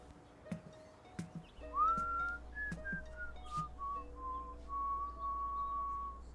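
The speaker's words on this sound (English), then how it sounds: "What's that you're whistling?" A person whistles a slow, wavering tune in a radio drama, clear and fairly close, sliding between held notes after a few soft knocks and footsteps, alone without talk.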